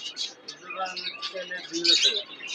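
Pigeons and doves at a crowded village pigeon market, with close, busy chirping and fluttering calls over a murmur of nearby voices, all fairly loud and continuous.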